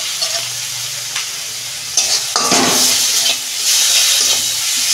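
Ground coriander, cumin and Kashmiri chilli powder sautéing in oil for a fish curry with potato and brinjal, with a constant close sizzle and a few stirring scrapes that build to a louder hiss partway through.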